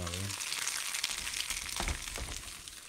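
Steady crackling sizzle of food frying in a pan, fairly quiet and continuous, with a faint voice murmuring briefly near the start.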